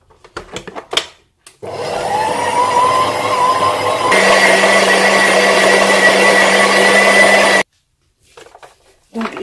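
An electric kitchen machine kneading cake dough, a steady whirring motor hum that starts abruptly, shifts to a louder, rougher pitch midway, then cuts off, with brief clinks before and after.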